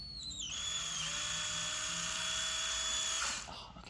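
A high-pitched drill whines steadily for a few seconds, close and sharp, drilling into a carbon fiber hood or fender on an MK5 Supra, then winds down abruptly.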